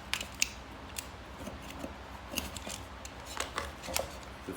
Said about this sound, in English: let me grab the X-Acto knife and we'll clean that up